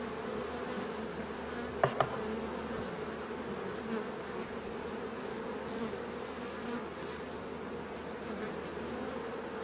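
A honeybee swarm from beehive number six fills the air with a quiet, steady, droning buzz that holds an even pitch throughout, with a couple of brief sharp clicks near the start.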